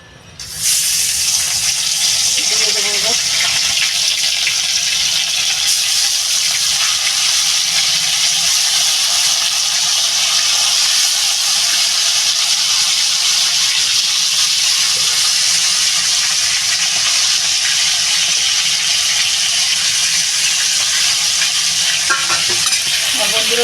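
Tilapia rubbed with salt and turmeric fries in hot oil for a radish curry, a loud, steady sizzle and hiss that runs unbroken from start to finish with no voices over it.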